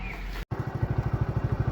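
A motorcycle loaded with two sacks of wheat seed idles and chugs steadily nearby, its rhythmic low engine pulses loud and continuous after a brief cut.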